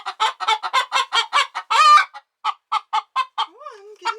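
A hen that lays green eggs clucks in a quick, loud run of short calls, breaks into a longer squawk, then keeps clucking close by and ends with a rising warble.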